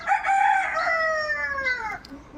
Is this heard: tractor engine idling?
no